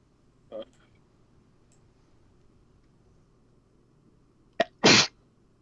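A single sharp sneeze rings out near the end, preceded by a brief catch of breath, against a quiet background with a faint click earlier.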